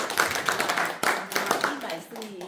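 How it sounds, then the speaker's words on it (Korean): A small audience claps in congratulation at a book talk and drawing exhibition opening in a literary museum gallery, scattered hand claps close by mixed with a speaking voice. "우리가 축하의 박수를 한번 드립니다."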